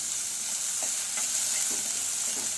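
Dried red chillies fry in hot oil for a Gujarati green moong curry. A steady, close sizzle fills the whole stretch, with a few faint stirring scrapes and light pops and no voices.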